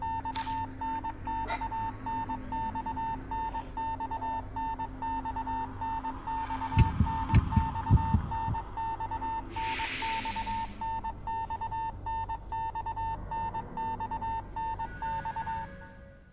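Steady electronic beeping from the horror game Spirit Hunter: Death Mark, a continuous tone pulsing over an ambient drone for most of the stretch, briefly broken by low thuds and a burst of noise before it suddenly stops near the end.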